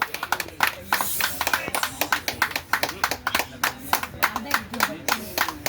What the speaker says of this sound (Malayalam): ഒന്ന് കൈയടിച്ചു കൊടുക്കുക.